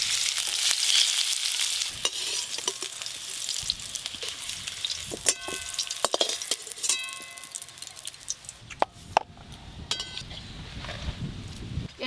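Young jackfruit fries in a pan with steady broadband sizzling, broken by occasional clinks and stirring scrapes, with faint voices in the background.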